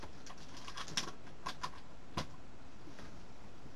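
Several sharp, separate keystrokes tap on a computer keyboard, sparse and close, with no talk.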